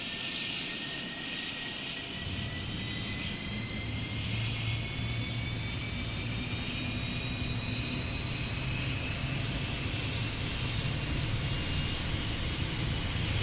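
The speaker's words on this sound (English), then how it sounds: "we're going to introduce fuel to the start position, which is this lever here. And we're going to listen to it start up." A Fokker F28 jet engine fitted with a hush kit spools up inside the cockpit, a loud steady roar with a rising whine that climbs gradually as it starts.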